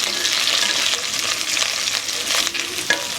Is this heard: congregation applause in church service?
no